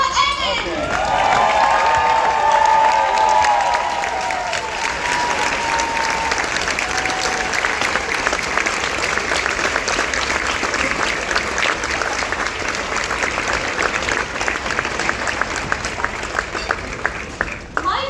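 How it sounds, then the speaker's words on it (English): Standing audience at a charity ball for the Colin Farrell Foundation bursts into sustained, dense applause with some cheering and shouts, loud and steady for the whole stretch, with voices mixed into the clapping. "I think it's only appropriate that we also stand and clap for the amazing CEO of the Colin Farrell Foundation, Miss Paula Evans."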